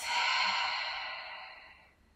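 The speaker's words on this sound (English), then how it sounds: "Inhale through the nose. Exhale from the mouth." A single long breath out through the mouth during a cooling yin yoga practice, breathy and close, fading away over about two seconds with no talking.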